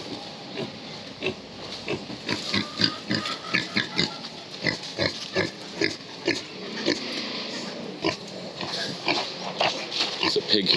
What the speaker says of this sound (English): There's a pig here too